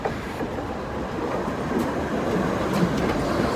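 Tram number 17 rumbling past on a street, a steady close rolling rail noise with faint clatter and slight swells, no talking.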